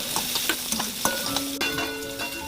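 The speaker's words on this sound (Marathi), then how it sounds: "आता तेल घेतलंय आणि त्याच्यात कांदा टाकूया" Onion dropped into hot oil in a kadhai for tempering okra, a brief crackling sizzle with sharp pops and stirring clicks, close and fairly quiet, no talking.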